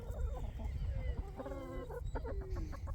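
A farm flock of laying hens clucks close by, overlapping bursts of rhythmic clucks and drawn-out squawks rising and falling over a low rumbling background.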